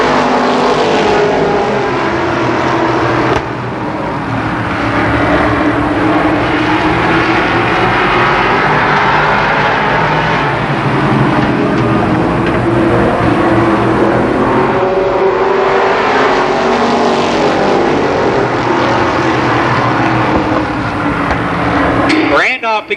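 Race cars lap Columbus Motor Speedway with a continuous roaring engine drone that swells and fades as the pack circles, loud throughout under a race announcer's steady commentary.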